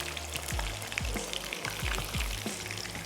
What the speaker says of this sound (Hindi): फ्राइज़ यहाँ पर हो रहे हैं फ्राई